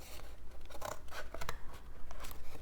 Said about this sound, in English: Cut it with my scissors because it doesn't have to be perfect.